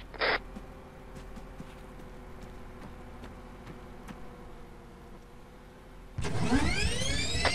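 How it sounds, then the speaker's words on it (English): An armoured vehicle engine in the Arma 3 video game starts as a faint low drone, then a loud heavy engine surge and rising mechanical whine burst in near the end. "Sounds like it might be a UAZ or something. That's definitely something with a big engine."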